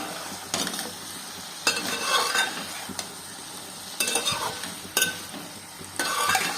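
Chicken pieces with yogurt for chicken dum biryani sizzle softly in a pot, with a few sharp scraping stirs and metal clinks recurring about once a second.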